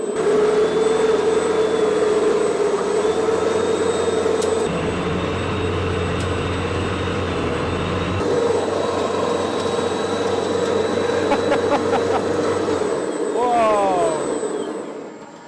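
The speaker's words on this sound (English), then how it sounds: "Okay, spooling up. Here we go. First test of the electric snowblower." A converted electric snowblower, originally a cheap gas model, spools up with a loud, steady motor drone and rising whine that holds for about thirteen seconds, then winds down with a falling pitch at the end.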